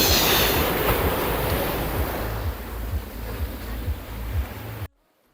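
Ocean surf at Anjuna Beach, Goa, next to a restaurant: a loud, continuous wash of breaking waves with a low rolling rumble and wind noise, then an abrupt cut to silence near the end.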